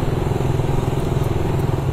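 Suzuki Raider 150 motorcycle engine running close up, a loud, steady, rapid pulsing rumble with no voices.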